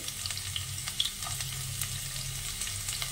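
Chopped garlic fries in hot oil in a wok, a steady close crackling sizzle with occasional pops and stirring scrapes, and no talking.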